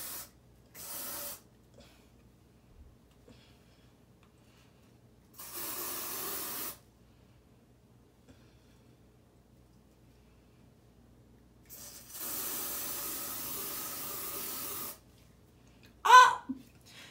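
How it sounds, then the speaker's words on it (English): An aerosol can sprays onto hair in three separate hissing bursts, each lasting about a second or more, with quiet gaps between them and a sharp sound near the end. "Shake it up and spray"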